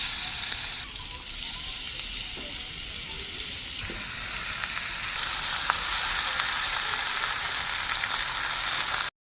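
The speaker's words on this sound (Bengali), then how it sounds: "দেওয়া তেলে এবার কুচানো চাল কুমড়োগুলি দিয়ে দেবো।" Chopped ash gourd hitting hot oil seasoned with dried red chilli, bay leaf and panch phoron, a loud steady sizzle that swells and brightens partway through, with a few faint stirring knocks and no talk.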